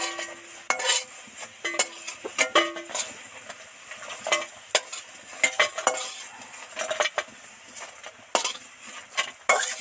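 Gram dal fritters are lifted out of hot frying oil, with a spoon stirring and clinking against the pan in quick, irregular strokes over a faint sizzle. No one speaks.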